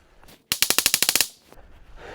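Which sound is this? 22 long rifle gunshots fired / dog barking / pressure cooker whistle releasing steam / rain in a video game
22 long rifle gunshots fired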